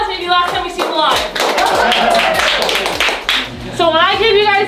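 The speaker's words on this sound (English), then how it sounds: "go ahead and give my friends a round of applause" Audience at Science North clapping close by, rhythmic hand claps mixed with voices and a few excited vocal sounds from the crowd.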